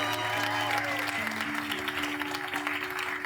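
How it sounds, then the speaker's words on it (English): Wedding guests at the ceremony clap steadily and cheer, a dense burst of applause with voices and tonal sounds mixed through it. "Well, give them a cheer for passing the test of the 3 questions there,"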